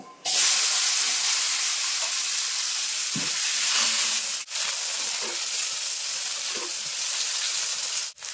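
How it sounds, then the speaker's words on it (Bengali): Eggplant pieces rubbed with salt and turmeric fry in hot oil, a loud continuous sizzle and hiss with a few brief clatters of a spatula, two short dips in the sizzle. "বেগুনগুলো লবণ হলুদ মেখে নিয়েছি, এবার ভেজে নেব"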